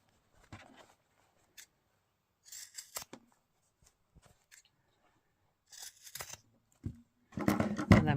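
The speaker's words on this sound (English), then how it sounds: "just trim them off to about 1/4 of an inch." Scissors trim the fabric corners of a small zipper pouch in a string of short, crisp snips and crunches, some clustered, heard up close in a quiet room without talk.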